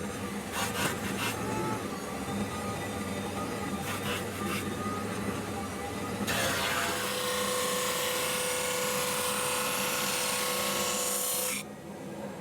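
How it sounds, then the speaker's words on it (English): A drum sander works a solid wood sign with resin infill: a loud, steady broadband whir with a faint hum starts midway and runs for about five seconds before cutting off, after lighter scraping and rubbing sounds. "So we're going to bring this over to the drum sander and run this through it"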